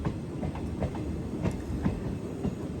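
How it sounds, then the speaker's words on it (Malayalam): A train creeps slowly along the track, heard from inside as a steady low rumble with evenly spaced clunks as the wheels pass the rail joints, and no voices. "ഈ ലൈനിൽ ട്രെയിൻ വളരെ സ്ലോവിലാണ് പോകുന്നത്."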